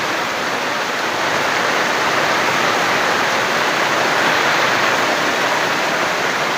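Heavy rain pours steadily as a dense, constant roar of rushing water, loud and unbroken throughout.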